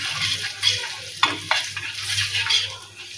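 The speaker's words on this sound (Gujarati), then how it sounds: "ચપટી હિંગ નાખીશું। થોડોક ચણાનો લોટ એડ કરીશું। હવે આપણે તેને થોડુંક શેકાવા દઈશું।" Gram flour with a pinch of asafoetida roasts in a pan for masala capsicum sabzi, a soft sizzle under scraping stirs, with a few distinct spatula knocks against the pan.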